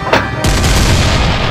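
Loud burst of video game gunfire, a sharp shot followed by a dense sustained roar of rapid fire, close and dominant with no talk.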